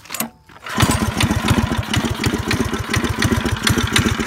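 Small go-kart engine fitted with a torque converter starting after a brief pull, then settling into a loud, close, steady putter of rapid firing pulses.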